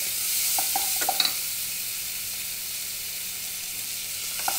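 Ginger, garlic and turmeric sizzle steadily in hot oil while being stirred, a constant frying hiss broken by a few soft utensil scrapes.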